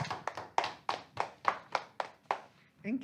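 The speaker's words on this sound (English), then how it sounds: "Everybody give Matthew a round of applause." A classroom of children gives a student a round of applause during a morning meeting, a sparse run of about ten separate, fairly close claps, then a brief bit of voices at the end.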